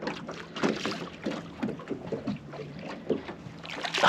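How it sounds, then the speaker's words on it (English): An outboard motor on a small fishing boat hums steadily on the water while fishing for flathead at Port Stephens, a close, even drone with some wind and splashing mixed in. "Don't go near that motor."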